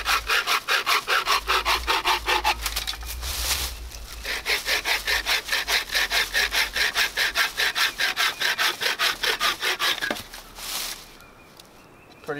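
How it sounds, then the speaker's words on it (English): A bucksaw cuts through thick sticks in the woods with steady, rhythmic back-and-forth strokes, loud and close. A brief pause breaks the run before sawing resumes, then stops near the end. "Alright, it's time to test out the Bucksaw."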